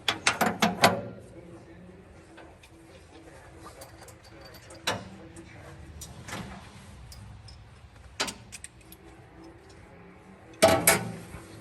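A ratchet socket wrench works during maintenance on a 1968 Chevy C30 car hauler truck, with a quick burst of clicks at the start and then a few isolated sharp metallic clicks and clunks spread across a quiet garage background.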